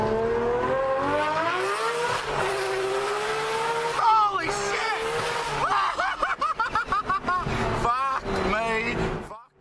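Porsche 911 race car engine revving, a loud rising howl that climbs steadily, then breaks into quick repeated surges and gear changes before fading out.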